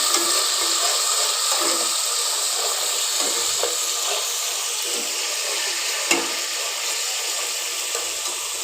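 Onion and garlic paste fries in a pan with a steady, close hiss and sizzle, running continuously with a few faint stirring scrapes and clicks scattered throughout.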